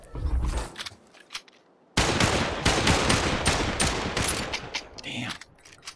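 Bursts of rapid video game gunfire crack out loudly after a brief quiet lull, a continuous fusillade of overlapping shots with short gaps near the end and a faint voice early on.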